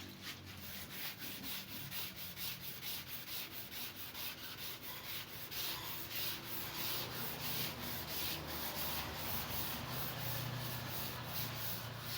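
Rhythmic hand sanding of old, shrunken body filler on a Toyota Innova, with quick, even back-and-forth rasping strokes repeating close by for the whole stretch.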